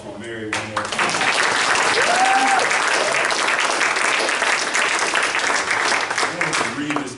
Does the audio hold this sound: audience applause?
yes